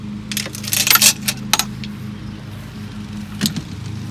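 Harbor Freight tri-fold aluminum ATV ramp with thin plywood sheeting being unfolded, a cluster of metallic clanks and rattles early on, then a single sharper knock later, close by and alone.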